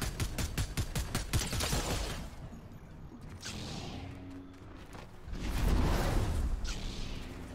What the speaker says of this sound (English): he's shooting me with the tactical DMR